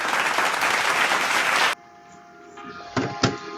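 Dense applause from a small audience fills the room loudly for under two seconds, then cuts off abruptly, leaving a quiet hum with a couple of faint knocks.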